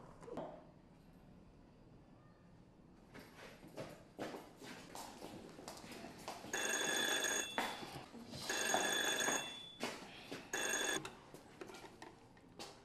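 A telephone rings in several bursts of bright electronic trilling, loud and close, after a quiet opening with only room noise, in a Burkinabè television drama.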